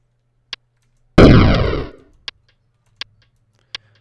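A Pong game made in GameMaker Studio 2 plays a crunchy synthetic explosion burst that decays over about a second, between short, evenly spaced blips from the ball.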